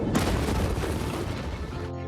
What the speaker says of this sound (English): This is one of the most powerful non-nuclear explosions that was ever caught on camera.